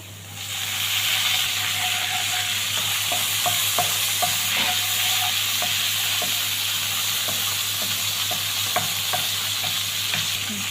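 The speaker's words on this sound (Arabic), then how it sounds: "وهنقلب كله مع بعضه وهنضيف على طول الخل" Vinegar stirred into garlic frying in a pan for Egyptian fatta, a steady close sizzle and hiss with scattered scrapes and clicks of the spoon against the pan, and no voices.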